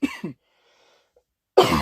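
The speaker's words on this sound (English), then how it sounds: "I've been having a bit of a cough." A short, close cough bursts out in two quick barks, falls into near silence, and is followed by a person starting to speak.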